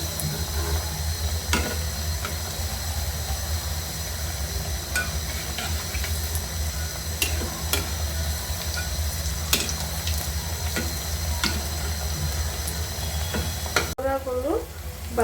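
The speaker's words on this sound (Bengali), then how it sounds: "এখন আমি পকোড়াগুলো ভেজে নেব।" Cabbage pakoras frying in hot soybean oil, a steady dense sizzle and bubbling that runs throughout, with occasional clicks and a brief shift near the end as the fritters are moved.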